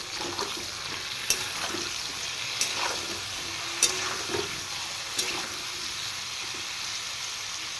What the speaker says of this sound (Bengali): এবার আমি এই দুদুলগুলো একটু ভালো করে ফ্রাই করবো